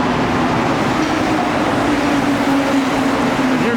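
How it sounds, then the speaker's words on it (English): A rubber-tyred Montreal Métro train bound for Honoré-Beaugrand rolls in with a broad, steady rushing roar and a faint high whine, filling the space continuously. "And here comes my train right now, Honoré Beaugrand."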